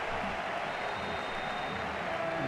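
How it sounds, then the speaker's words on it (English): A stadium crowd at Spotify Camp Nou cheers and applauds in a football match between FC Barcelona and Athletic Club, a dense, steady roar that fills the whole short stretch without letting up. "What a cheer."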